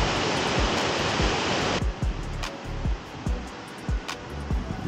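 Flowing stream water rushes in a mountain forest at Blaen Y Glyn, a dense hiss that is loud at first and then drops to a softer wash with scattered small clicks and knocks.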